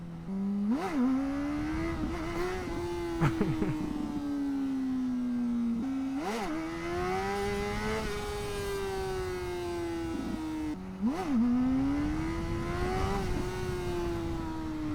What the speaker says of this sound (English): my rear tire is spinning out instead of catching a grip